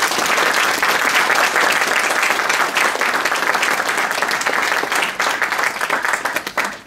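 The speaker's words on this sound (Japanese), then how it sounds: "今一度大きな拍手をお願いいたします。" A large audience at a 2019 season team and uniform presentation claps loudly and continuously for new players, a dense sustained applause that thins out and fades near the end.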